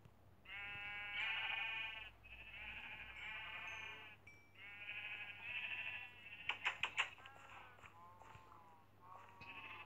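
Repeated video game sheep bleats, several overlapping calls in quick succession, clear and fairly close, with a few sharp clicks partway through.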